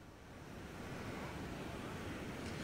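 Rough sea waves at high tide on Juhu Beach, Mumbai, during heavy rain make a continuous, loud roaring wash of surf, with some wind buffeting the microphone and no talk.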